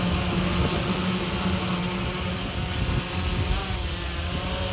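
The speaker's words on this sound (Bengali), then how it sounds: "ড্রোন উঠছে অবশেষে, ড্রোন উঠছে অবশেষে" A drone taking off in windy weather at Diabari in Uttara, Dhaka, a steady close whine of propellers buzzing with a faint tonal hum, layered with constant wind rush, no talk.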